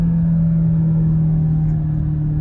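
2022 Kia Stinger GT-Line engine while driving, heard from inside as a steady, strong low tone over engine rumble, holding at one pitch and close, with no talking.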